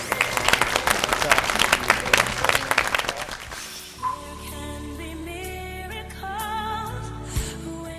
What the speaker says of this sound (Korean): 박수 한번 쳐야 되는 거?